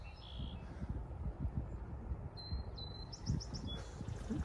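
Swallows chirp in short, high twittering bursts over a bay marsh, fairly faint against a soft, steady outdoor ambience.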